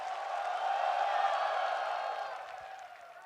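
An esports arena crowd at a CS:GO semi-final between Astralis and MOUZ applauds and cheers in a broad, sustained wash of clapping and voices that swells and then slowly fades.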